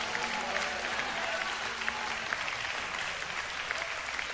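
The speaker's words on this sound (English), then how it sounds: "can you clap your hands and can somebody shout hallelujah?" A church congregation claps hands in steady, dense applause during a sermon, the sound filling the room continuously at moderate volume with no speech over it.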